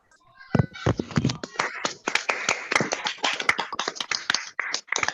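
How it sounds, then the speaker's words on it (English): Online meeting attendees clapping through unmuted mics, a ragged burst of applause from several people that starts after a brief pause and continues unevenly, with some overlapping clicks and taps. "Can we please unmute our mics and give her a very short round of applause?"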